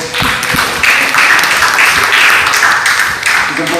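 Loud, close applause fills a school hall as students clap together, a thick continuous roar of hands with slight surges and dips.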